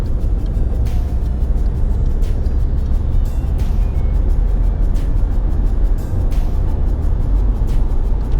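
A car on the A58 highway picks up speed, its engine and tire roar loud, close and steady throughout with no pauses.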